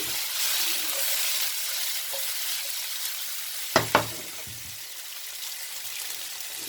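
Tomatoes fry in a pan with a steady broadband sizzle throughout, broken by two sharp knocks of a spoon partway through as they are stirred; no one speaks.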